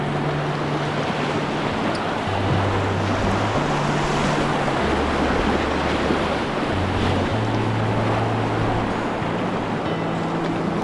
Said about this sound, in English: while that wave does not look big at all, there is a lot of water coming over there